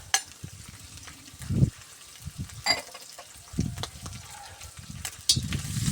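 Food fries in a cauldron as the base for bograch, giving an uneven crackling sizzle with scraping and stirring bursts and a few sharper knocks close by.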